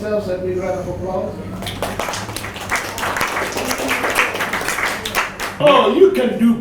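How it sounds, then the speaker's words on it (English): An audience claps in a round of applause after a call from the stage at a talk, with dense overlapping claps rising from about one and a half seconds. Voices and cheering run through it, and a shout comes near the end. "Give yourself a big round of applause"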